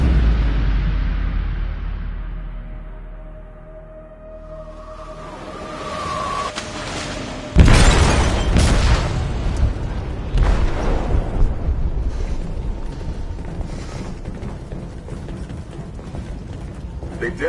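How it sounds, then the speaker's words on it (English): A loud explosive detonation booms inside a ship's hold in the video game Detroit: Become Human, a sudden blast following a rising rumble, then sustained crashing, rumbling debris and metallic clatter with faint voices underneath. "They detonated an explosive in the hold."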